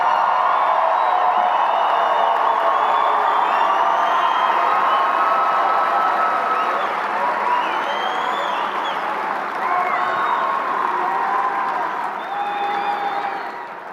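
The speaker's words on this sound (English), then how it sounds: "let's give another round of applause to the class of" Crowd at a Christiansburg High School graduation applauding and cheering for the class of 2025, loud sustained clapping mixed with whoops and shouts from a large audience, continuous throughout.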